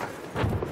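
Horse hooves clopping in the World War I shooter Battlefield 1 during an open beta match, a short burst of muffled hoofbeats passing close over steady game ambience.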